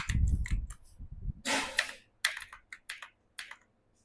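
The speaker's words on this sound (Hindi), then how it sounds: "एड्रेस के नीचे हमने एड्रेस टाइप कर दिया।" Rapid keystrokes on a computer keyboard while an entry form is filled in, coming as irregular bursts of clicky taps with short pauses, close and fairly clear, ending in a few isolated key presses.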